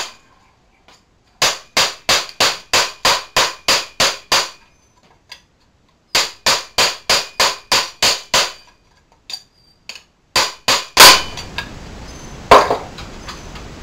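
A ball peen hammer flattening a piece on scrap wood: two runs of about ten evenly spaced sharp strikes, then a few scattered blows and a clatter.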